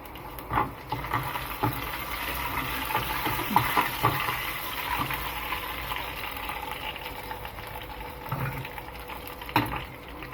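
Sliced onion and curry leaves fry in hot oil in a pan for a vegetable stew, giving a soft steady sizzle broken by scattered pops and crackles.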